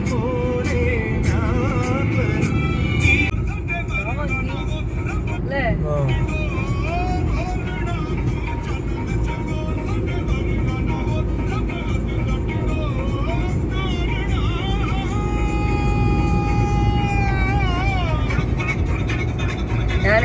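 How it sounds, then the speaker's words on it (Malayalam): From inside a moving car, a constant engine and road rumble runs throughout, with voices and occasional tonal sounds layered over it. "അങ്ങനെ കുറേ കാലങ്ങൾക്ക് ശേഷം ഓടിക്കുന്നു, കാർ ഓടിക്കുന്നു"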